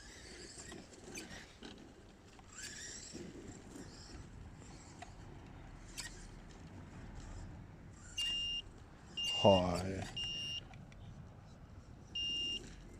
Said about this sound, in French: Je suis vraiment désolé pour le bruit de la télécommande.